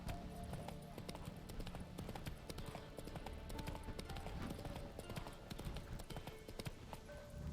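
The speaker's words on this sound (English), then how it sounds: "Run, Roach" Horse galloping in The Witcher 3 video game, with dense, continuous rhythmic hoofbeats at a faint level under busy game sound and occasional voice.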